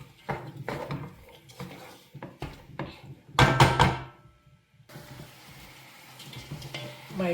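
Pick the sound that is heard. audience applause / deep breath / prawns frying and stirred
prawns frying and stirred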